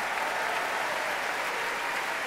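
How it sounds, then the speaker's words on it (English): A full house at the Royal Albert Hall Proms applauds after a performance of Holst's The Planets, a dense, even roar of clapping filling the hall without a break. "musicians acknowledging the applause of the full house here at the Royal Albert Hall."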